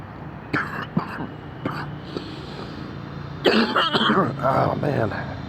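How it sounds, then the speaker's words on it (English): Coughing and throat-clearing in a few short bursts early on, then a louder, longer rough hacking spell toward the end, close to the microphone. "I gotta cough something up."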